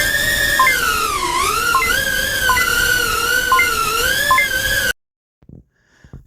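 Racing drone motors in the Velocidrone flight simulator: a loud, continuous high whine that wavers up and down in pitch as the throttle changes, then cuts off abruptly into near silence with a few faint clicks.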